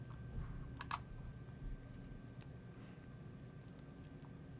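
Faint, scattered keystrokes on a computer keyboard as a store name is entered, a few soft clicks spread across a steady background hiss with no talking.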